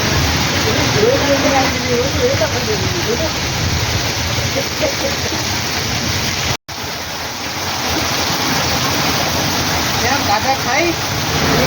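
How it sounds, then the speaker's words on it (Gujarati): Steady heavy rain falling on a village road, a dense, continuous rushing wash that stays even and loud throughout, with a brief instant of silence partway through and faint voices blending into the background. "એક જ સરખો વરસાદ લગભગ ચાલીસક મિનિટ ત્યાં એક ધારો આવે છે"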